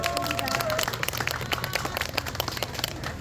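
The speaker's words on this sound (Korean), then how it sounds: "큰 박수 부탁드립니다." Audience applause at a political rally in Hapcheon, steady clapping mixed with crowd hubbub that runs through the whole stretch without a break.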